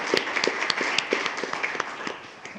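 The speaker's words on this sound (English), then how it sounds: "if you'd join me in a round of applause for both of those young ladies" A room at a school board meeting claps for two students, the claps steady and moderately close, a small crowd applauding briefly with no voices over it.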